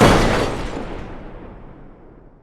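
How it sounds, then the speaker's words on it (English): A single gunshot effect in the video game The Stanley Parable, a loud sudden blast that decays into a long rumbling echoing tail over about two seconds. "Sounds like a gunshot."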